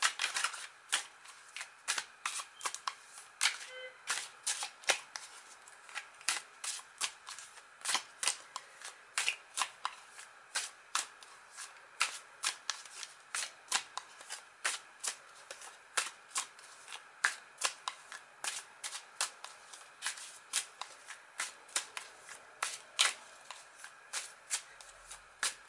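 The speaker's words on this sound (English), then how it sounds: "let's start shuffling these cards" Tarot cards shuffled by hand for a long stretch, a steady run of crisp riffling flicks and soft slaps, close and fairly quiet with no talking.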